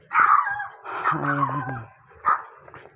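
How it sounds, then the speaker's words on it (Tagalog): Dogs bark and yip outdoors in Barangay Kalantipayan, Lopez, Quezon, Philippines, with several close, loud barks and a whimpering, wavering bark in the middle, and a person speaks briefly nearby. "At may tumatahol"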